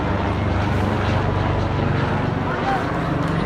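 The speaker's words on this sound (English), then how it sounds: "As you can hear, let's start with the Lifestar helicopter." Lifestar medical helicopter flies overhead in Hartford, Connecticut, a continuous loud rotor and engine drone filling the air while first responders gather, with no talking.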